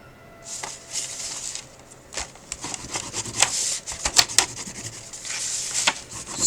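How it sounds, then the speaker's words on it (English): Paper file folder pocket being burnished flat by hand, a dry rubbing and scraping in uneven strokes, close and moderately loud, with brief sharper rasps toward the middle. "Just burnish that down."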